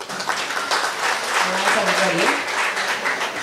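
A crowd claps in a dense, steady round of applause for a steel band performer at a church event in La Brea, with a voice speaking briefly over it.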